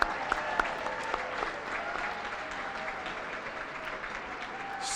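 An audience claps for an award honoree at a live awards event, a moderate, steady patter of applause from a crowd with a few sharper nearby claps.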